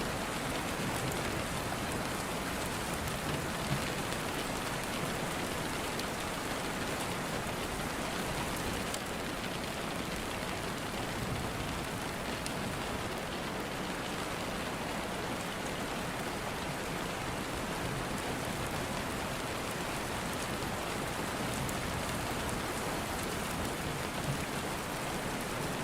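Steady rain falls, a dense, even hiss of drops on surfaces that runs without a break at a fairly soft level. No clear thunder stands out and no voices are heard.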